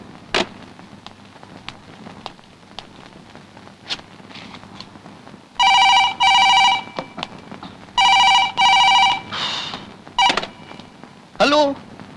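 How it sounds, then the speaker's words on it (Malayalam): A telephone rings while a call is placed to a veterinary hospital, with two loud paired bursts of electronic ringing separated by a pause, a few other brief tones and clicks, and faint voices in between. "ശരിക്കുള്ള നമ്പർ ഡയൽ ചെയ്യടൂ."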